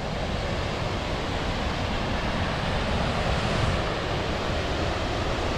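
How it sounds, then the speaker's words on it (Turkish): Skogafoss waterfall in South Iceland, a dense continuous roar of falling water with wind across the microphone, loud and unbroken, no voices. "Şelalemiz de burada."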